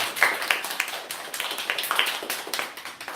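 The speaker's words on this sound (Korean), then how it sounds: "오민웅 멘토님에게 다시 한번 감사의 박수를 전해드릴게요" An audience at a Korean mentoring lecture applauds the speaker, with scattered, fairly light hand claps coming in an uneven, pulsing rhythm, close and without voices.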